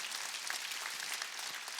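A church congregation at a Wednesday worship service gives a brief, faint round of even clapping, distant and unaccompanied by speech.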